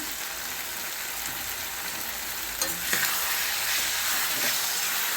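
Mutton liver with spices, including turmeric and chilli powder, sizzles steadily while being sautéed in a pan for a Madurai-style sukka, a continuous close frying hiss with no talking.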